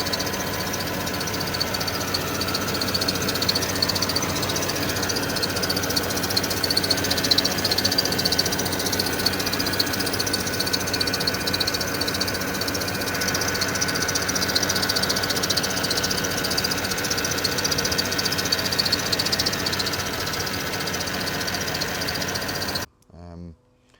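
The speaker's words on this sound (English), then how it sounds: "the noise that's coming from the auxiliary belt on the front of the engine" Porsche Cayenne engine running with a noisy, screeching auxiliary belt and faulty belt tensioner at the front of the engine, a steady close drone that continues throughout before cutting out near the end.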